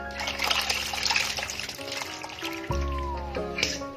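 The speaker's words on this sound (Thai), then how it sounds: "ก็ล้างเอาเศษมันออกอีกนิดนึงนะเขย่าเขย่านะจะเป็นพวกเศษแป้ง เล็กๆนะให้หลุดตามขึ้นมานะคะ" Glutinous rice balls for bua loy are swished and rinsed in cold water in a bowl, making close splashing and trickling sounds with a short ringing clink partway through.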